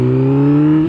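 A car engine that nearly stalled holds a loud, steady rising rev, close and sustained, dropping off slightly at the end.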